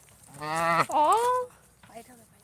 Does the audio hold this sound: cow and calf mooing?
yes